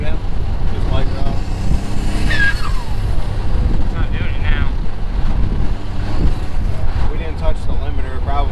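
A built twin-turbo Mitsubishi 3000GT VR4 with a 6G72 engine runs hard on a dyno, producing a loud, continuous engine roar throughout, layered with broadband noise.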